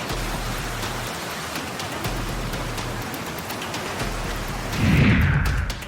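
Steady heavy rain pours down in a dense, even hiss throughout, with a low continuous rumble beneath and a brief louder surge near the end.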